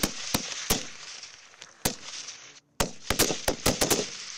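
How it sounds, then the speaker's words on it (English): Sharp gunshots from soldiers at shooting training, a few single cracks at first and then a faster cluster of shots, heard close over a steady outdoor hiss and broken by a brief moment of silence. "Soldiers perform actions and prepare to shoot."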